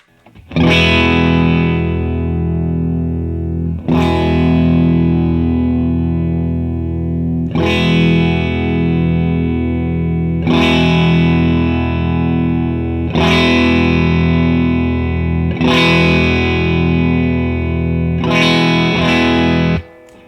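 Electric guitar driven through an Earthquaker Special Cranker boost/overdrive pedal while its control is swept, repeated sustained distorted chords struck about every two and a half seconds, loud and ringing, with the tone shifting from chord to chord and no talking.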